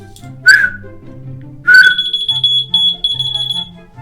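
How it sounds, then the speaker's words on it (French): Two sharp whistles, each followed by a shrill electronic beeping from a whistle-activated key finder, with a soft melody playing underneath. "Trouve-les en sifflant."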